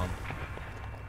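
Bomb blast from the video game Zelda: Breath of the Wild, a short, dense burst of rumbling noise that fades quickly.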